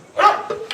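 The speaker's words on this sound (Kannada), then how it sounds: "ಒಂಜಿ ನಾಯಿ ನಾಯಿ ನಾಯಿ" A dog gives a short burst of two or three quick barks, close and fairly loud, with no speech.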